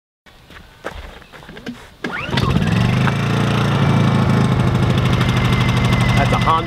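A Honda portable generator at an off-grid campsite is handled briefly with a few knocks, then starts on a single pull and settles into a loud, steady engine drone nearby.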